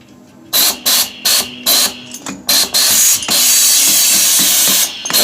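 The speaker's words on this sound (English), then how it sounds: "The problem that I'm having with this hammer is basically it's just blowing air." Faulty pneumatic air hammer under repair blowing air instead of striking: several short loud hissing bursts, then a long continuous blast of escaping air, close up.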